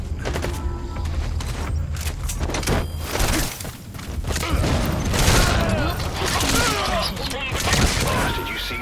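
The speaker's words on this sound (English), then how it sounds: "Explosion. There's smoke." An explosion in the Metal Gear Solid V: The Phantom Pain video game as a fleeing prisoner's vehicle crashes, a dense, sustained rumble of blasts and thuds with crackling debris, loud and continuous throughout.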